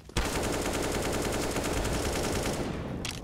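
An AK rifle fires in rapid automatic bursts during a Counter-Strike match on Inferno, a loud, dense rattle of gunfire lasting about three seconds.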